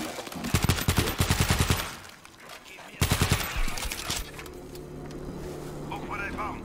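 Rapid automatic gunfire in the zombie shooter World War Z comes in two loud bursts of fast rattling shots separated by a short pause, followed by a lower droning hum and scattered game effects.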